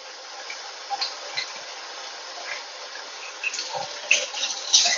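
Running water pours steadily into a mason jar as butter is rinsed beneath it, with soft splashes and small clinks rising toward the end, close and moderately loud.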